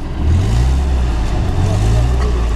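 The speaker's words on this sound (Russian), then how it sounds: "Пробуем проехать ямку." An off-road 4x4 vehicle revs and drives through a pothole, its engine rising and dipping in pitch twice over a couple of seconds, loud and close.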